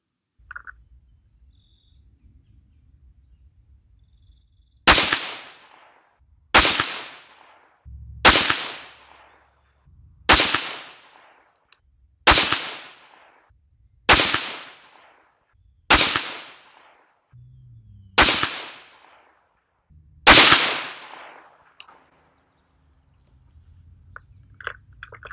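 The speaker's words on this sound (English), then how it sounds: "Shooting at 100 yards, gonna try to find some velocity nodes." Nine rifle shots from a 6.5 Grendel loaded with 130gr Nosler RDF bullets, fired at a 100-yard range; sharp, loud cracks with decaying tails, spaced roughly every two seconds, no talking.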